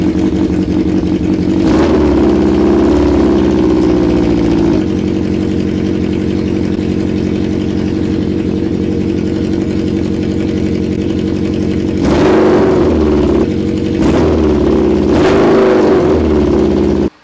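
Honda CB750 cafe racer engine running loud through mufflers with the baffles removed, a throaty idle rumble broken by several sharp revs near the start and again toward the end.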